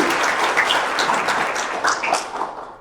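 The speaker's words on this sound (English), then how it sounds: "the school applaud you for your contribution" An audience at a school celebration for graduating BSc nursing students claps steadily and warmly. The applause is dense and even and fills the whole stretch, with no talking over it.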